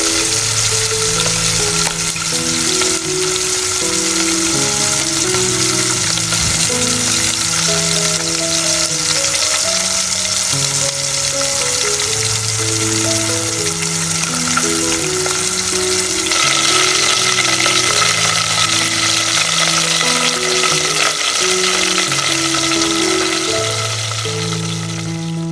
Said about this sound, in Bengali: অয়েল গরম হয়ে গেছে, এই পর্যায়ে মাছগুলো ভেজে নেব